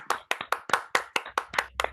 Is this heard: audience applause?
yes